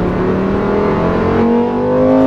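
A Lamborghini Huracan Tecnica V10 engine revs loudly and steadily as the car climbs through several gears, rising harmonic tones stepping up with each shift, close and continuous with no talk.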